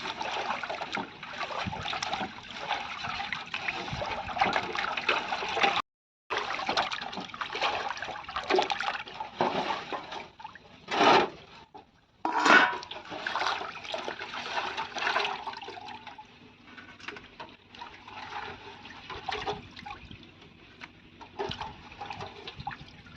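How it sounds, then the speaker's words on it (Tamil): Fish being rinsed by hand in water with salt and turmeric, a steady close sloshing and splashing that pauses briefly, then continues more softly. "இன்னொரு தடவை உப்பு போட்டு கழுவுறேன்"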